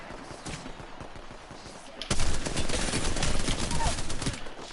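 Rapid automatic gunfire in the Apex Legends video game, a soft stretch of distant shots, then a sudden loud burst of sustained close firing that continues to the end, with no speech over it.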